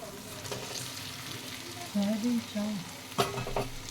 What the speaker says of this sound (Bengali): এবার আমি ভেজে রাখা সয়াবিনটা দিয়ে দেবো এর মধ্যে